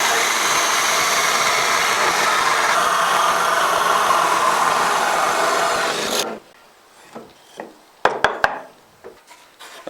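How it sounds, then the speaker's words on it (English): A drill grinds loudly through wood, boring a 2 1/8 inch hole, for about six seconds and then stops, followed by a few scattered knocks and handling clatter. "I'm going to drill a 2 1/8 of an inch hole."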